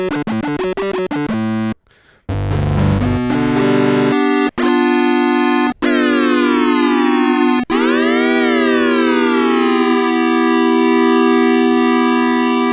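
A Korg Minilogue synthesizer plays a loud oscillator effect: stepped pitched notes, a brief gap and low buzz, then sustained tones with sharp cutoffs and swooping pitch bends that fade out slowly, with no voices.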